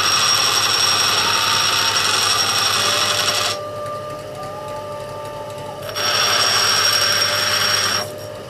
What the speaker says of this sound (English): I don't even know if this is called a grinding stone